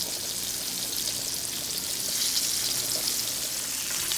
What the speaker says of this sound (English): Fried pork chops, y'all.